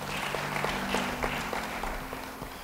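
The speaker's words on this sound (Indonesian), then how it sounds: "Beri tepuk tangan bagi Tuhan." Indonesian church congregation clapping together during a worship service, a moderately quiet, steady patter of many hands with a low hum underneath, heard from a distance.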